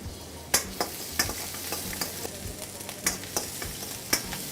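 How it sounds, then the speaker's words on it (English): Garlic and julienned ginger fry in hot sunflower oil for Hakka noodles, a steady close sizzle broken by repeated scraping taps as the pan is stirred. "we're going to drop some garlic, some julienne of ginger"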